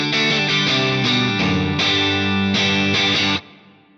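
Clean electric guitar chords from a Stratocaster neck pickup ring out through an Axe-Fx III AC20 amp model with warm tone and London plate reverb, several strummed chords, then a fading tail.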